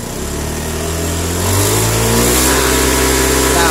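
Honda Beat scooter engine revved up from idle, a loud close-up motor whose pitch rises and holds at a steady high rev, with no talking.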